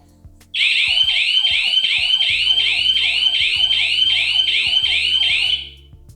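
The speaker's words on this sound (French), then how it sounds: "c'est vraiment une vraie alarme" A KERUI home alarm siren wails loudly in a fast, even series of about ten rising electronic sweeps, then cuts off.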